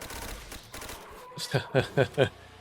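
A Type 100 submachine gun with Double Tap fires in Call of Duty: World at War Zombies, a quick burst of four sharp, evenly spaced shots after a softer, rattling stretch, fairly close and loud.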